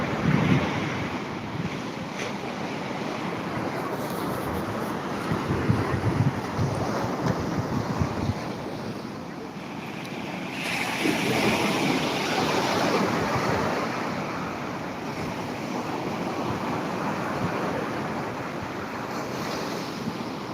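Steady surf and sea breeze at the beach in Tiruchendur, with waves swelling and washing in continuously over constant breeze noise on the microphone.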